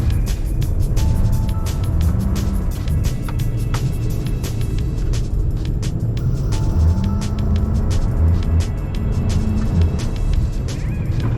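A Dodge Charger drifts on a lightly snowy road, heard from inside the car as a loud, steady engine drone with rising and falling revs and constant road and tire rumble.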